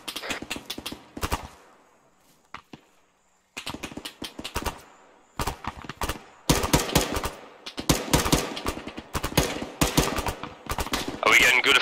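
Gunfire in the military video game ARMA 3, with bursts of rifle and machine-gun shots in irregular clusters broken by short quiet gaps, some loud and close, growing denser toward the end.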